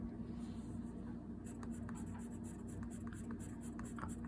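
A blender pencil drags over colored pencil on paper in soft, close scratchy strokes, several short rubs repeating quietly over a faint background hum.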